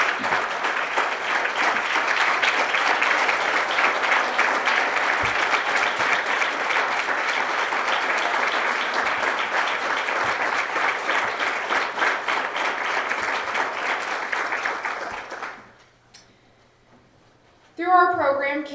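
Large round of applause from an awards ceremony audience honouring two young recipients, steady dense clapping for about fifteen seconds before fading out, then a brief burst of speech at the end.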